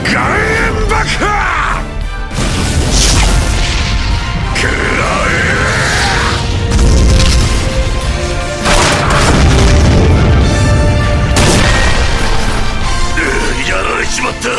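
Explosive booming attack effects from a samurai video game's rock salt special move, loud crashing blasts repeating over game music with grunting voices throughout.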